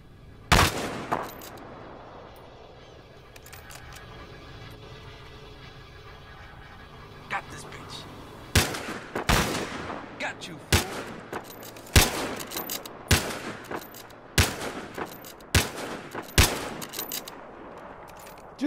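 Sniper rifle fire in a shooter video game, sharp loud cracks scattered irregularly through the stretch, many in quick succession near the end, while people talk over them.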